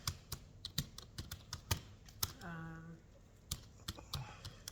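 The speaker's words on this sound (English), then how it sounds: "I'm just typing in this" Fingers tap on a computer keyboard in an office at a fasteners packing business, irregular close clicks in short bursts, with a brief voice or tone partway through.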